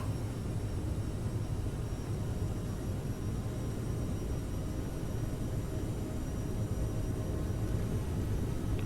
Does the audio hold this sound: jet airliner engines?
yes